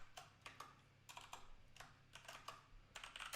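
Code being typed on a computer keyboard, quiet close clusters of quick key clicks in short irregular bursts with small gaps between them, over a faint low hum.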